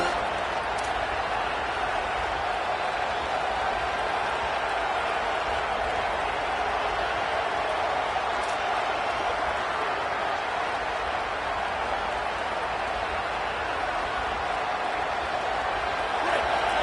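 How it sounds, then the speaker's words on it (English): A dense, steady roar of a large American football stadium crowd fills the whole stretch, broad and continuous with no clear individual voices standing out. "This crowd bringing the energy and noise early."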